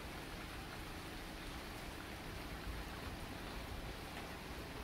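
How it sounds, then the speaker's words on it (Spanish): Rain falls outdoors in Cabo Rojo, Puerto Rico, after Hurricane Fiona, heard as an even, unbroken hiss of steady rainfall at moderate level, with no voices, cutting off abruptly at the end. "está lloviendo"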